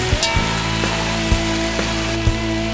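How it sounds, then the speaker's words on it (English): A vegetable mixture for braised short ribs with barley sizzles steadily in a hot pan, with a few soft knocks as it is stirred, and no one speaks. "we're going to let that cook down until my vegetables get nice and tender"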